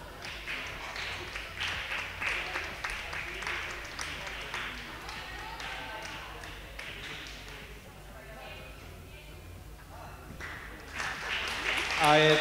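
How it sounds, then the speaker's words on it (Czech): Spectators at a 2017 competition in Liberec clap in rhythmic bursts, loud at first, then fading and picking up again toward the end, mixed with crowd voices. "Tak děkuju za potlesk."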